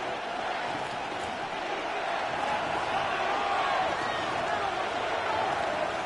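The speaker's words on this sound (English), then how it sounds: "This crowd is making it tough down deep in the red zone." Steady, dense roar of a football stadium crowd as the offense nears the red zone, a continuous wash of cheering and noise filling the whole stretch with no breaks.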